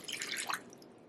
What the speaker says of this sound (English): we're going to add in some soy milk and some water